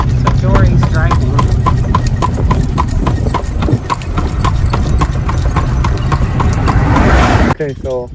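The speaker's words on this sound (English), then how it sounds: "going for a ride in the pony cart" Hooves of a pony pulling a cart clip-clop in a steady, even rhythm close by, loud throughout, with people talking over them and a brief neigh near the end.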